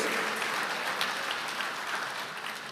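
Dense, sustained applause from a large church congregation fills the space, steady and fairly loud, gradually easing off toward the end.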